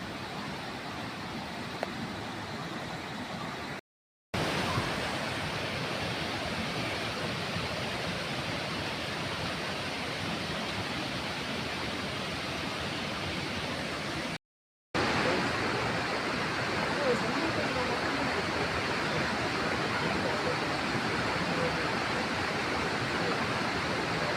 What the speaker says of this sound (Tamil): அந்த அளவுக்கு இது வந்து மிகவும் நீளமான ஒரு ஃபால்ஸு.